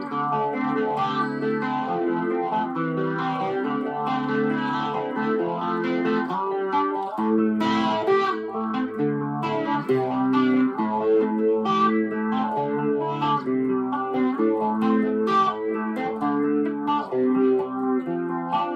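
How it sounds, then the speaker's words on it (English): Electric guitar played through the univibe effect of a BOSS MS-3 switcher, heard on a Kramer 2021 Custom Baretta Vintage: a continuous run of chords and notes with a swirling, pulsing modulation and light grit, steady and close, with no talking. "Univibe. Univibe sound."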